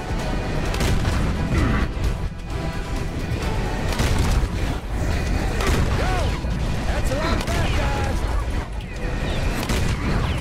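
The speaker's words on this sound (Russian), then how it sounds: "Там сейчас такие взрывы будут." Explosions in the video game Serious Sam 4 boom steadily in a dense, loud barrage, with heavy blasts and gunfire-like bursts overlapping for the whole stretch. A voice talks underneath.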